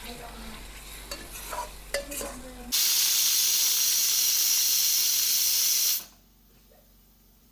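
Mutton cooking Bihar style in a pan: faint stirring and clinks at first, then a loud steady sizzle and hiss of frying for about three seconds that cuts off abruptly into near silence.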